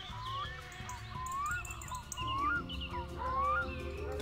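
Birds in the My Summer Car video game give a few repeated rising, whistled chirps with occasional harsher calls, spaced across a few seconds over a steady low rumble.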